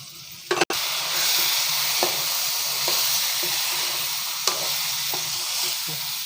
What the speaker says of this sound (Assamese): সকলোবিলাক মছলা দিয়াৰ পাছত ভালদৰে মাংসখিনি লৰাই দিব।